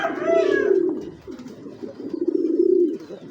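Close, steady low cooing from Giribaz high-flyer pigeons, a large breed, rolls on in a couple of long throaty phrases with no voices over it.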